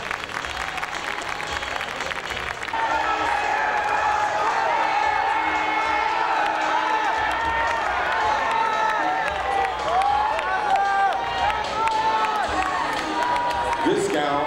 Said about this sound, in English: a round of applause for contestant number one, Miss Victoria Snow.